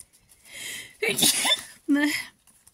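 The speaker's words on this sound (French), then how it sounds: "je vais éternuer." A voice speaks briefly, then a sharp sneeze bursts out, followed by a short vocal sound afterward.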